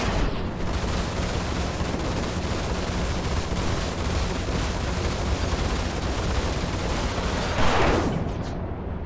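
Missile launch in the space game Star Citizen: a continuous loud roaring blast throughout, with a brief rising whoosh near the end, heard alone without speech.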